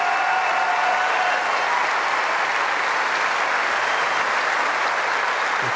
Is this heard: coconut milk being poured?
no